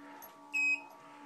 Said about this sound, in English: 10-second reminder beep on the keypad.